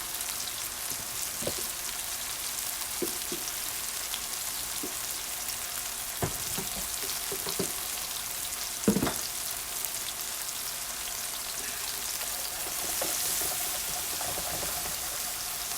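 A spatula scrapes and stirs all-purpose flour in a frying pan, giving a steady, soft sizzling hiss with scattered light scrapes and a couple of louder knocks against the pan, close by and without talk.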